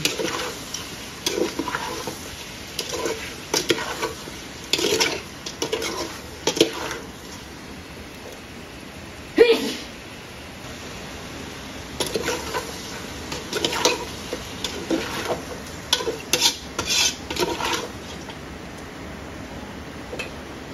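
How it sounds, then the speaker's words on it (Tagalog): Arroz caldo with chicken wings, neck and head, seasoned with black pepper and seasoning mix, stirred in a pot: irregular soft scraping and wet squishing strokes come in bursts over a quiet background, with a sharper knock midway. "Haluin lang natin."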